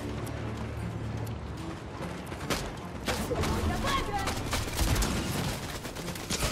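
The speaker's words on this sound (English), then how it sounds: "the turret's doing damage" Automated turret in Fortnite firing a rapid stream of gunshots, dense and continuous throughout, fairly close and steady in level, with a voice talking over it.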